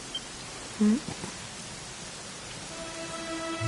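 Rain in the video game Dragon Quest 11: a steady, soft wash of in-game rainfall runs throughout, with a brief tonal game sound near the start and a faint sustained tone toward the end.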